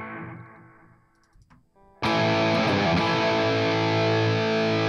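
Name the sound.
distorted electric guitar through Line 6 HX Stomp cab IR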